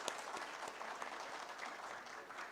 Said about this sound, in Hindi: हम तालियों की गूंज में इनको खराज तहसीन पेश करेंगे आज।